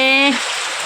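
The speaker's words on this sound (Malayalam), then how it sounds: "നല്ല മഴ" Heavy rain falls as a steady, dense hiss, with a short voiced sound at the very start before the rain continues alone.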